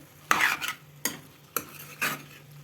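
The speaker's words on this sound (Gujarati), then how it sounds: "બધું સારી એવું મિક્સ થઈ ગયું છે." A spoon stirs a thick undhiyu vegetable mixture in a pan with four distinct scraping strokes, the first one longer, close and clear with no talking.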